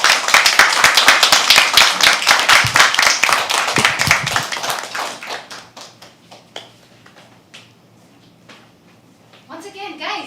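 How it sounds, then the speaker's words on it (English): Audience at a live poetry open mic claps loudly and continuously, then the clapping thins out into scattered claps and fades, with voices and a brief shout toward the end. "You're supposed to clap until the stage is occupied by the next person."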